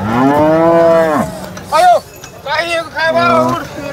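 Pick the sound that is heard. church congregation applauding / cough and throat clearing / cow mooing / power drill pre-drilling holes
cow mooing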